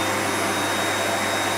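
An air blower tube, used to drive a vertical-axis Darrieus wind rotor, runs as a steady, loud broadband rush with a low hum, continuous and alone throughout.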